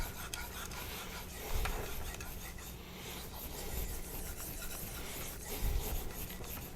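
A convex knife is sharpened on a 3000 grit Naniwa diamond stone, giving soft, repeated rasping strokes of steel on stone at a quiet, even rhythm, with a few faint bumps.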